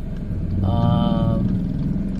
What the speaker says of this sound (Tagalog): padaanin muna natin yung mga tricycle